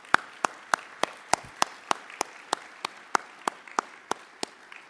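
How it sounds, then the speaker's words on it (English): Clapping at the 2015 Better Buildings Summit plenary session comes as a steady, evenly spaced run of about sixteen crisp, close claps from what sounds like a single pair of hands, with quiet room tone between them. "If we can give them a big round of applause,"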